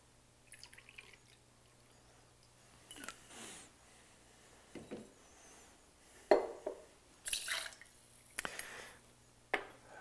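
Applejack being poured into a cocktail measure for a Jack Rose, heard as soft liquid drips and splashes with light glassware clinks, quiet and close, in intermittent bursts.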